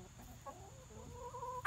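Chickens cluck and squawk softly nearby in short, irregular calls, ending with a sharper squawk.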